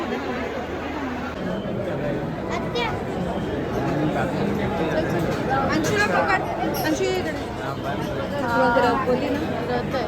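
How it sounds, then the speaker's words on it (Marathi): Dense crowd chatter fills the Sunday rush at Siddhivinayak temple, many voices overlapping into a steady, close babble with occasional louder calls and no single voice standing out. "आज रविवार असल्यामुळे खूप गर्दी आहे."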